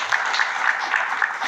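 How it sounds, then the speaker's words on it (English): A small group at a hotel-industry panel talk applauds, a steady patter of hand claps held at an even level throughout, with no voices over it. "So I just wanted to give a hand clap for Priscilla."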